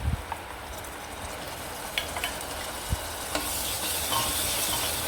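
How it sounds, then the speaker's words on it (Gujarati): Grated tomato is added to ginger and chillies frying in hot oil, giving a steady close sizzle with a few clacks of a utensil against the pan, and the hiss briefly grows louder near the end. "આદું, મરચાં તેલમાં ચડી જાય પછી તેમાં એક ટમેટું છે જે મેં છીણી લીધું છે એને એડ કરવાનું છે"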